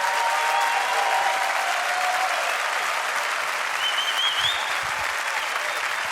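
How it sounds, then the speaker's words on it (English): A large audience at the 2018 MotoGP awards ceremony breaks into loud, sustained applause, a dense wash of clapping that stays full and even throughout, with faint whistles and cheers riding on top. "I think he deserves another massive round of applause for that performance today."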